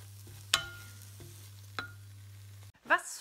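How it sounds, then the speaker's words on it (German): Scrambled eggs frying in a pan give a quiet, steady sizzle under a low electrical hum, broken by a few sharp scrapes and clinks of stirring, then a brief louder rustle at the end. "jetzt mache ich mir hier ein schönes Rührei"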